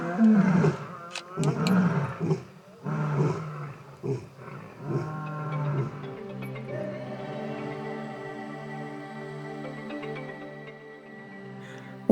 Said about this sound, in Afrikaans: kry ons 'n klomp leeu's teen die rivier se walle, besig om met mekaar te praat